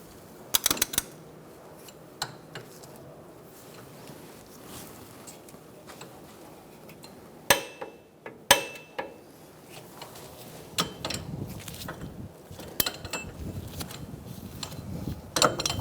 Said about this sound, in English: Use your tool to tighten it and torque it to 55 foot-pounds.